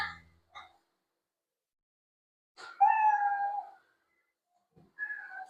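A cat meow sound effect plays a few times, short separated calls with a longer, clear meow in the middle, against silence.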